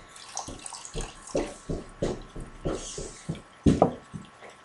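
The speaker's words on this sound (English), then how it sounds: "So we're going to add the tea, and it's hot." Hot tea is poured into a melt-and-pour soap base, giving irregular splashy liquid bursts with a few sharper knocks, fairly close and with no talking.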